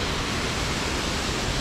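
The Lajeado waterfall in Paulo Lopes, Santa Catarina, roars as a continuous broadband rush of falling water, loud and steady with no breaks.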